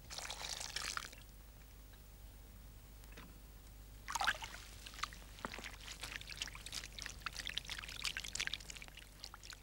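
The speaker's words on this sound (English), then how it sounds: "Mrs. Morrison washes carefully, pressing the wool gently so that it will not tangle or felt." Water splashes and pours as wool fleece is washed by hand in soft water, gently pressed; a burst of sloshing opens, then quieter dripping, then a longer stretch of splashing and trickling, close and unaccompanied by speech.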